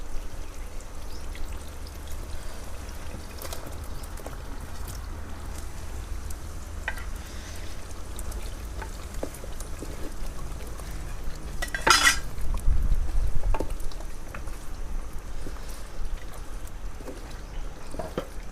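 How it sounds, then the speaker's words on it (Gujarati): Fried potatoes tipped into hot masala in a clay pot, with a steady low rumble, scattered clinks and scrapes, and a brief pouring burst near the middle. "હવે હું છે ને આ તળેલા બટેટા નાખી દઉં અંદર."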